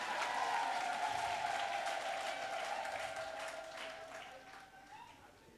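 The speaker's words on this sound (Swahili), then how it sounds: "Pigia Yesu makofi mazuri kabisa" A church congregation applauds at a conference service, with dense clapping that slowly fades out while a voice carries over it.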